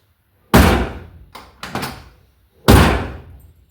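Door of a 1965 Ford Mustang under restoration, sounding as a loud close metallic slam, two quicker lighter latch clunks, then another hard shut, close up with no talk.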